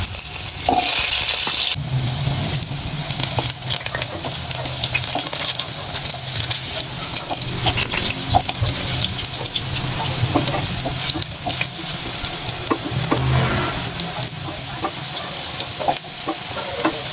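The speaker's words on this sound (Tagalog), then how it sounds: "iprito muna natin itong mga hiniwa nating kamote" Sliced sweet potatoes sizzle and crackle steadily in hot oil, a continuous frying hiss with occasional stirring clatter.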